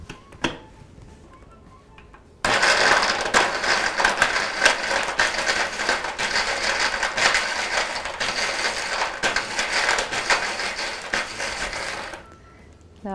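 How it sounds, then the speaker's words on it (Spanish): A blender whirs loudly, crushing a fruit slush of goldenberries, ice and honey, starting abruptly with a grinding, rattling roar that runs about ten seconds before cutting off. "Y vamos a licuar."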